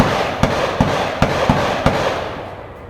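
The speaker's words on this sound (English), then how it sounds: "I know people like to hear that gunfire in the background" A series of sharp, distant gunshots crack at irregular intervals over a steady outdoor background hiss, about six reports in all.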